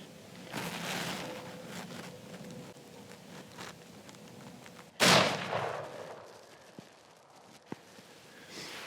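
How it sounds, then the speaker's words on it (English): A single rifle shot fired at an elk cow during an elk hunt outdoors, one sharp loud crack in the middle followed by a fading echo, after a quiet stretch with faint rustling. "I want you to shoot her. Whenever you're ready, nice and easy, just squeeze."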